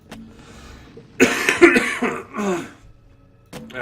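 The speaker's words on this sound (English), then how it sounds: "Sorry for the coughing." A single close cough, rough and throaty, followed by a brief throat clearing, with near silence before and after.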